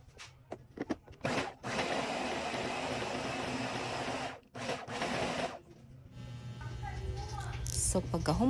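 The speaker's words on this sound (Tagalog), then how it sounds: "Gi-grind lang nato until mapino ang sili ug ang ahos." A grinder whirs steadily as it grinds chili and garlic mixed with oil, a loud continuous mechanical buzz with brief stops and restarts, followed by quieter kitchen sounds.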